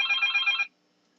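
A telephone bell ringing in a quiet room during a medical lecture, a steady electronic trill lasting under a second before cutting off into silence.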